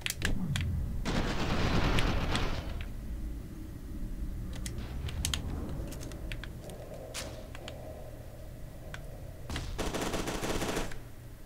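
Gunfire from the video game F.E.A.R. 2 rattles in bursts, with dense automatic fire and scattered sharp shotgun-like blasts over a low game ambience.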